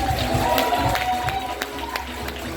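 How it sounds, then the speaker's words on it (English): Crowd applause and cheering for a troupe of hula dancers at a live Polynesian dance show, a steady dense wash of clapping that holds loud for the whole stretch, with a few sharper claps standing out. "A big round of applause for the dancers of"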